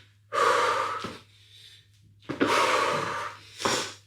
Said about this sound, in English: Big deep breaths. Try to control that breathing.